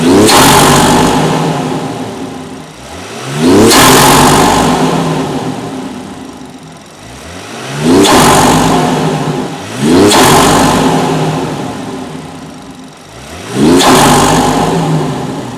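A BMW X3 M40i with a newly fitted exhaust revs hard five times in a steady cycle, each loud climb tailing off before the next blip, with no voices.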